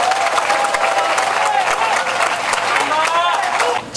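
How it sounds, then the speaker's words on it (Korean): An outdoor crowd at an evening election campaign speech in a town-hall square applauds and cheers, with continuous clapping and crowd noise that fades slightly at the end. "여러분 박수 한번 더 쳐줘요."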